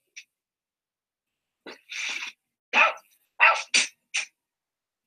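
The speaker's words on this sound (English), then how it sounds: "Is my phone barking?" A phone ringtone of a dog barking gives a few short, sharp bark-like bursts in quick succession after a brief pause, fairly close and clear against an otherwise silent background.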